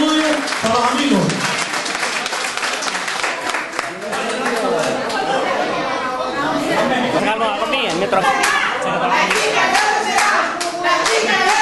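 Clapping and cheering from a crowd gathered at a neighbourhood food-collection event, dense and continuous across the whole stretch, with voices and chatter mixed into the applause.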